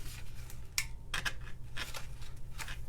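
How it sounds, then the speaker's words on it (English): Scissors snip through gold twine in a series of small, close, crisp cuts and clicks, irregularly spaced, over a faint low background hum. "Let me cut this off because it's way too long."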